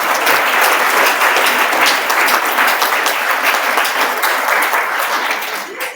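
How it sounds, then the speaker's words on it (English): An audience applauds an honoree at a Ripple of Hope awards event, with steady, dense clapping that stays loud for about six seconds before tapering slightly at the end. "So let's give him a round of applause."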